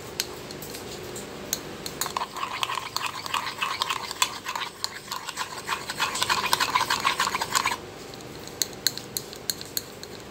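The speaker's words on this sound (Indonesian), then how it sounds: "kita aduk" Hot soap and surfactant mixture being stirred in a container, a steady close run of scraping, clinking strokes for several seconds that stops abruptly, followed by a few scattered taps.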